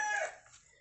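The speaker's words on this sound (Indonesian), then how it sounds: "Wih, ada anak ayam nih teman-teman." A single short, high peeping chirp from a young chick, close by, fading quickly into quiet.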